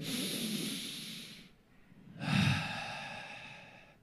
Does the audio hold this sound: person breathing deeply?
yes